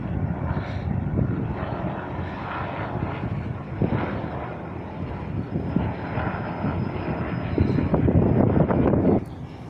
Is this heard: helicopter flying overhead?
yes